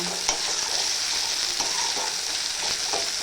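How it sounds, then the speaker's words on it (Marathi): Ginger, garlic, tomato and onion sautéing in hot oil for chicken fry, a steady close sizzle with a few soft stirring scrapes, no talking. "छान असं ते परतलं चाललेलं आहे अद्रक लसूण टमाटर कांदा"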